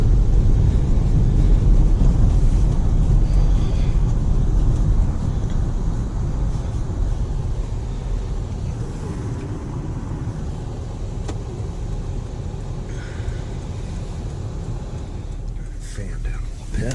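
A 2005 Toyota Highlander V6 cruises with a steady low rumble of engine and road noise inside the cabin, gradually easing in loudness, with occasional talk over it.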